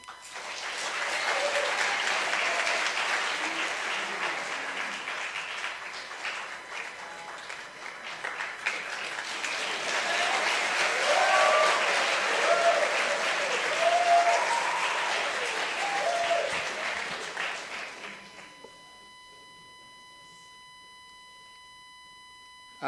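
Audience applause greets the introduction of Reverend William Wipfler at a morning meeting, a steady, full clapping from a large crowd lasting about eighteen seconds before cutting to near silence.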